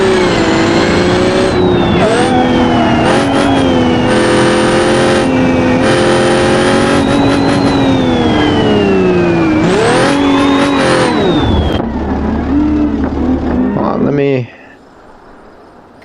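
A drift car in a video game, its engine revving hard and loud with repeated rises and falls in pitch and occasional tire squeal, cutting off abruptly near the end.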